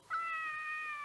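A single short cat meow from an animated series, rising then holding steady, heard close and alone.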